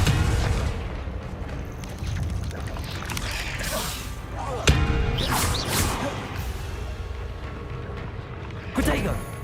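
Confringo fire spell blasts in Hogwarts Legacy go off amid busy combat, sharp crashes and whooshing bursts punctuating clattering mechanical noise, a few louder hits standing out, with a voice talking over the action.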